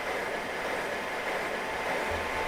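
An ICE 2 double-unit high-speed train passes in the game Train Simulator 2022, heard as a faint, steady rushing rumble of rail noise that stays even throughout, with no voices.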